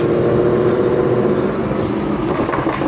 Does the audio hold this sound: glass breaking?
no